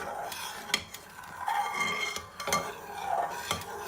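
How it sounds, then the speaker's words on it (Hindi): A spoon stirs homemade condensed milk in a pot, giving soft, irregular scrapes and clinks against the metal with a faint bubbling simmer underneath, close and fairly quiet, with no talking. "इसको हम लोग बराबर चम्मच चलाते ही पकाएंगे"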